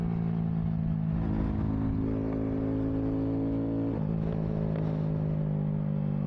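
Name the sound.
Honda Grom motorcycle exhaust backfiring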